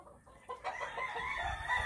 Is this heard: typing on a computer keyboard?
no